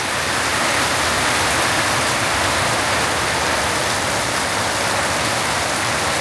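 Heavy rain pours down in a dense, loud, continuous hiss that never lets up, with no voices present.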